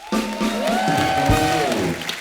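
Studio audience applauding on Kapil's show stage for guitarist Dinesh, a steady wash of clapping with a held guitar-like tone running through it, fairly loud and sustained throughout.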